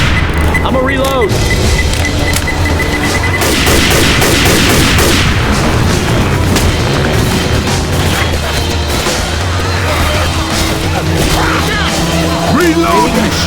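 Dense, rapid gunfire and booming blasts from Left 4 Dead 2, loud and continuous throughout, with players' voices talking over the shooting.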